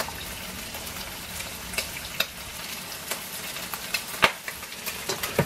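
A pot of water for pasta bubbles at a rolling boil, with a steady crackling hiss broken by frequent small pops and splashes, close and moderately loud, with no talking.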